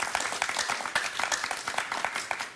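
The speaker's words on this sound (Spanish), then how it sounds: "un aplauso para que se entienda." A studio audience gives a short burst of applause, brisk clapping lasting a couple of seconds, with faint voices mixed in beneath it.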